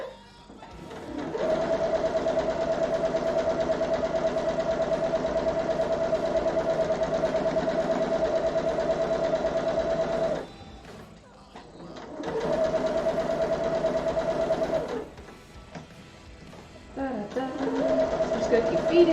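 A Janome sewing machine stitching quilt pieces runs in long steady whirring bursts with two brief pauses, close and fairly loud, while a voice talks quietly alongside.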